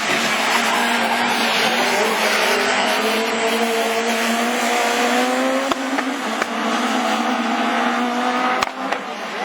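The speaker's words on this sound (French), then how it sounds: "Franck Hello, avec sa petite Saxo Pitiard, il fait une saison exceptionnelle" Citroën Saxo Super 1600 rallycross cars racing at a French championship round in Mayenne, 2013; loud high-revving engines wail with rising and falling pitch while tires squeal and skid, close and continuous.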